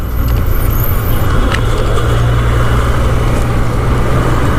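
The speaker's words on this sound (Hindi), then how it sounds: "अभी देखिए मेरी गाड़ी सेकंड गियर पर चल रही है।" A car drives in second gear at a low road speed of about 25 to 30, its engine giving a loud, steady, close hum with road rumble and no break throughout.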